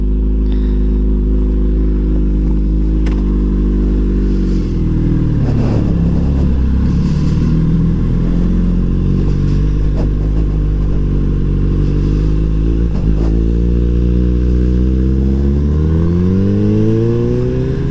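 A motorcycle engine runs close by through a ride, idling with a low rumble before revving up and down several times, its pitch rising and falling in sweeps as it accelerates and shifts, with some mechanical clatter.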